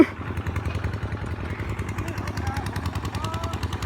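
A rotary tiller vehicle churns through a rice paddy, its engine chugging in a steady fast pulse close by, with faint voices in the background.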